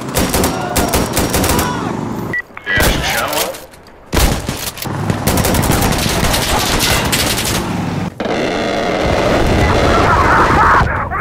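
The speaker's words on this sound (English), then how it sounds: "The explosions, the sound of bullets ricocheting off the walls" Rapid bursts of gunfire and booming explosions from the video game Insurgency: Sandstorm crackle in quick succession, loud and close, with bullets ricocheting off walls and brief pauses between volleys.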